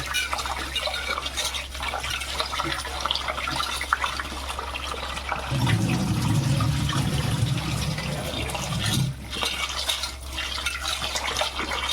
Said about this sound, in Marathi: आता आपण इकडे तांदूळ धुवायला घेऊ आणि भात करायला घेऊ